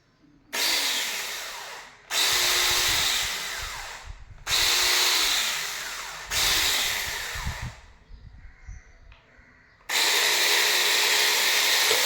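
A battery-powered mini electric chainsaw runs in several separate bursts, each a steady high-pitched motor whine of a second or two, with short pauses between. The sound is close, and one run stutters briefly.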